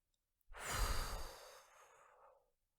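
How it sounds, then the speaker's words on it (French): A single forceful exhale through the mouth during a relaxation exercise, a long breathy rush that swells quickly and then trails off softly, close to the mic in otherwise quiet surroundings. "vous pourrez ensuite souffler fortement par la bouche pour évacuer vos contrariétés"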